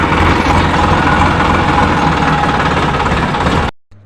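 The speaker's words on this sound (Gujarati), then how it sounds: "અત્યારે જો આપણે ટ્રેક્ટર લઈને જઈ રહ્યા છીએ" A tractor's loud, steady diesel engine chugs continuously at close range, then cuts off abruptly near the end.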